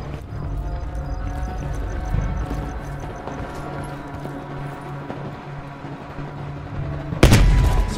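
Gunfire in the video game Call of Duty Black Ops Cold War: scattered, fairly distant shots over a steady rumbling battlefield ambience, ending in one loud, close blast.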